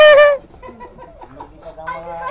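Chickens give a loud, close squawk at the start, then quieter scattered clucks and calls over a short stretch in a Filipino backyard setting.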